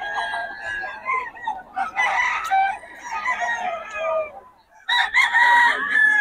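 Roosters crow loudly and repeatedly at a busy Bocaue market where game fowl are sold, with clucking and a crowd's background noise around them.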